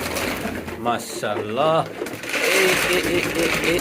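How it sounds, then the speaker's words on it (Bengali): Pigeons on a pigeon farm coo in soft repeated rolls close by, mixed with people talking over them. "কবুতর কিন্তু মোটামুটি এখন অনেক হয়ে গেছে আমাদের ফার্মে অনেক কবুতর হয়ে গেছে"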